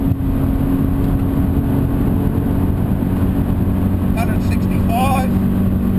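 Steady, loud drone of a Subaru BRZ engine at full throttle on a race track, constant in-cabin roar while someone talks over it.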